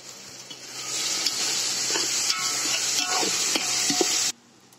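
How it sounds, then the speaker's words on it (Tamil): Tomatoes sautéing in a pan for chicken biryani, continuous close sizzling with occasional spoon scrapes for about four seconds before it cuts off abruptly. "தக்காளி வதங்கிட்டு இருக்கு"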